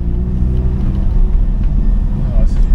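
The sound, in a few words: car driving on road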